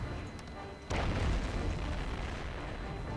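Cannon fire in the strategy game Anno 1404 Venedig: a heavy boom lands about a second in and is followed by a rumbling, noisy battle wash that carries to the end.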